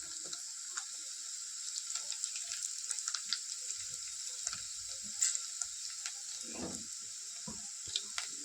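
Curry leaves sizzling in hot oil with cloves, cardamom, cumin, pepper and a chilli for tempering a prawn masala, a soft steady crackle with scattered pops, fairly quiet.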